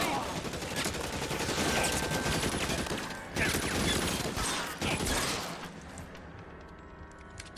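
Dense, sustained gunfire in the video game LA Noire crackles loudly and continuously, with bursts of shots layered over one another and brief pauses before it tapers off.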